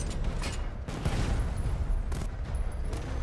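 Batmobile cannon fire in Batman: Arkham Knight, rapid repeated blasts forming a dense, steady barrage with mechanical rumble throughout, loud and close.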